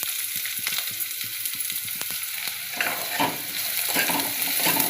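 Onion and garlic fry in hot oil in a wok, making a continuous loud hiss with sharp crackles and tapping stirs close by, the sizzle growing fuller toward the end.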